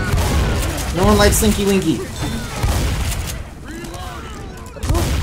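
Gunfire in the Left 4 Dead 2 video game, a loud burst of shots in the first seconds and another near the end, mixed with excited players shouting and talking over the game sounds.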